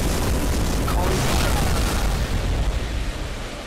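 A Fire spell cast in Final Fantasy VII Remake gives a loud, sustained roaring whoosh of flame that fills the whole stretch and fades slightly toward the end.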